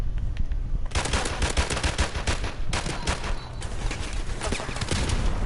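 Sustained automatic gunfire in the video game Modern Warfare Remastered, a dense, rapid stream of loud, close shots rattling on without pause.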